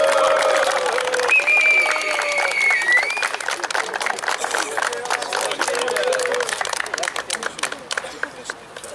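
Sustained applause from a crowd at a veterans' football cup award ceremony as a finalist club is honoured, dense clapping throughout with voices and talk over it.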